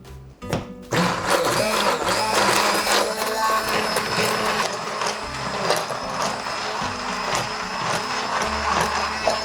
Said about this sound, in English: with a hand blender, I'm going to pulse all the ingredients together until it has a nice smooth consistency